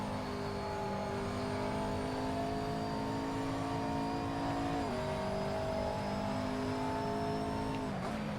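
Race car engine held at steady, high revs in a racing sim, droning continuously and up close with a brief dip in pitch at a gearshift midway and another near the end.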